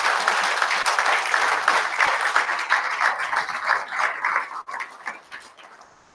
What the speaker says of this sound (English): A huge round of applause there.